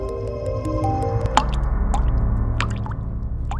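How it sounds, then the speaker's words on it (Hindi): Water drops falling one after another onto a still water surface, each making a small bright plop, close and clear over a faint low hum, with no other voices. "जैसे पानी की सतह पर कतरा गिरता है"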